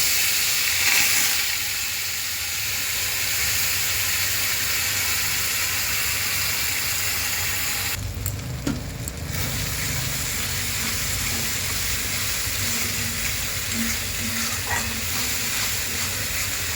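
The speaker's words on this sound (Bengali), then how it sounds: "তারপরে এই যে ভেজে রাখা মশলাটা পেস্ট করে নিয়েছি দিয়ে দেবো।" A pre-fried paste of onion, garlic, ginger and chili hits hot oil seasoned with whole cumin while cooking palak paneer, giving a steady close sizzle and hiss with a few stirring knocks and no talk.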